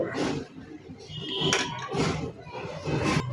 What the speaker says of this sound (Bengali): এবার একটু নাড়িয়ে চাড়িয়ে আমি এটাকে ঢেকে দেবো, ঢাকনা দিয়ে ঢেকে রাখবো